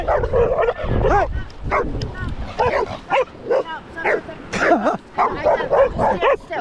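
A dog on a Pacific-coast beach in Panama barks and whines repeatedly at close range in short, excited bursts, with some yips and whimpers mixed in.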